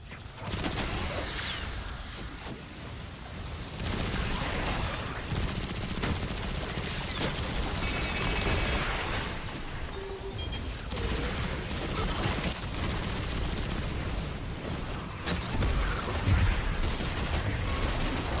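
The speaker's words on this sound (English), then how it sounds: "This is a very slow firing machine gun." Slow, heavy machine-gun bursts from a mech foot soldier in the Destiny 2 shooter, a dense sustained barrage of gunfire with explosions and mechanical noise layered underneath, loud and continuous throughout.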